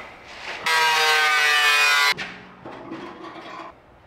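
A power tool trims a truck part near the clutch master line, giving a loud, steady high-pitched grinding whine for over a second, then quieter intermittent cutting.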